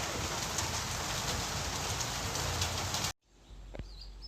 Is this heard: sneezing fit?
no